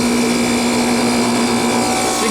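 A 2011 Cold Shot Zarsky 7.5 ton air-cooled outdoor chiller with a 2 horsepower pump running nearby, giving a loud, constant mechanical whir with a steady low hum.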